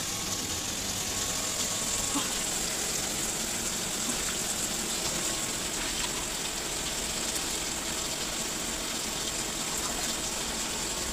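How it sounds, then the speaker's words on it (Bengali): Bitter gourd being rinsed under a running tap, a steady, continuous gush and splash of water close by that holds an even level throughout with no break. "আমি করলাটাকে ধুয়ে নিই"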